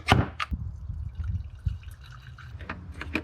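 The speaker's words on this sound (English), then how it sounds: "now I need to put some distilled water in there so that I can flush it out" Distilled water is poured into the coolant reservoir of a BMW F30 cooling system, a steady close trickle and gurgle with scattered drips and small knocks.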